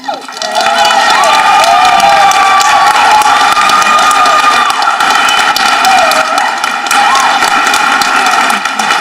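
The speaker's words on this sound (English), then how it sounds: "Would your parents please rise for a round of applause?" Loud, sustained cheering and applause from a graduation ceremony crowd at Nex+Gen Academy, honoring graduates' parents; shouts and whoops ride over steady clapping for the full length.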